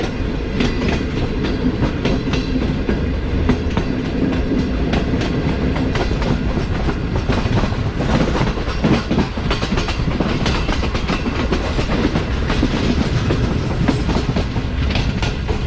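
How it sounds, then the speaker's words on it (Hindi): A Green Line Express passenger train runs steadily on rails approaching a junction in Pakistan, heard from inside a carriage as a loud, continuous rumble with rhythmic clickety-clack of wheels over rail joints. "अब जाकर सीधी हुई ट्रेन बाकायदा फील हुआ है।"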